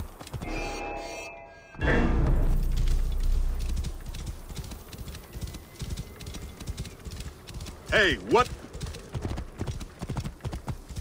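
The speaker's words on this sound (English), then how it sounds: "This must be Mered's horse." Horse hooves clip-clopping in Assassin's Creed Origins, a steady rhythmic trot running through most of the stretch at moderate distance, with brief shouted game dialogue early on and a short burst of a voice near the end.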